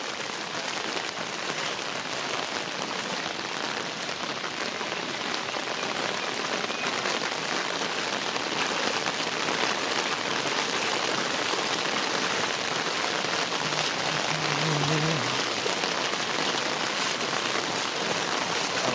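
Heavy monsoon rain pours steadily in Konkan, near a flooded river with water running over the road by a ghat, a dense, unbroken hiss of drops striking surfaces that holds level throughout with no voices.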